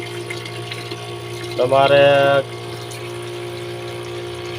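Water gushes steadily from an old battery-powered pump drawing from a 300-foot bore, a constant droning motor and water rush under a brief spoken word.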